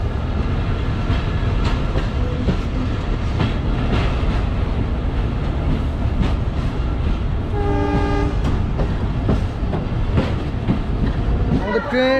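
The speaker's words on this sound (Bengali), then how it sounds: "আমাদের ট্রেন যে লাইনে প্রবেশ করছে" An IR local train on the Rajshahi to Chapainawabganj line rumbles along the rails with steady clatter, its horn sounding one clear sustained blast midway and a brief rising tone near the end.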